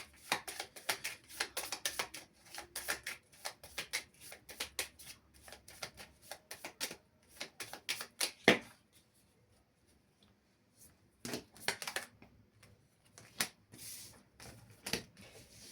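Oracle cards are shuffled in quick bursts of soft rapid riffling and flicking, close up, with a pause partway through and no voices.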